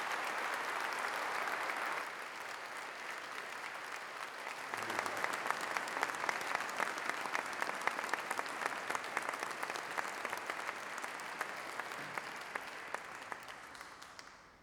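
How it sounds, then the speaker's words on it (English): Large audience applauding new graduates at a university congregation ceremony, sustained dense clapping that swells after a couple of seconds, holds steady, then fades out at the end. "give the new graduates a round of applause"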